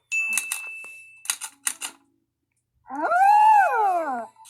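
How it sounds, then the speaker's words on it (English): A cartoon typewriter worked by Snoopy and Woodstock in the Peanuts movie clatters in quick bursts of keystrokes with a bell ding, then a drawn-out rising and falling howl takes over. "Snoopy and Woodstock learn how to operate a typewriter"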